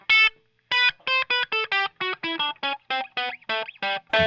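An electric guitar with the treble turned all the way up and everything else down plays a run of short, bright, buzzy distorted notes in a quick rhythm, close and alone.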